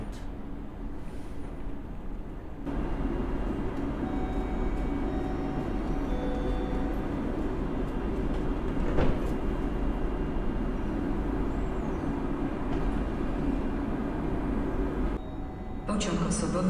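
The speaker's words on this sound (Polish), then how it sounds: "i dzisiaj mamy lokomotywę na końcu składu i jest to lokomotywa Trax EU47" Traxx EU47 electric locomotive at the tail of a push-pull train at Warszawa Centralna station, a steady loud rumble of rolling stock and station noise holding for over ten seconds, with a brief sharp clank midway and voices faintly present.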